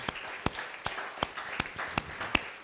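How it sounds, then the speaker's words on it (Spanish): A church congregation claps steadily in praise at a Spanish-language service, roughly seven strong, evenly spaced beats over a soft bed of scattered claps, heard at a moderate distance. "¿Por qué no damos un aplauso al Señor por la bendición?"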